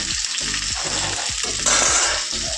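Steady, loud sizzle of potatoes frying in a pan, with rhythmic scraping strokes of stirring throughout and a brighter hiss surging near the end.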